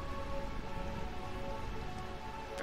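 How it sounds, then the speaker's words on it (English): Steady rain falling across the ruined city of Burmecia in Final Fantasy IX, a continuous even hiss with soft patter, no voices. "Burmecia, realm of eternal rain."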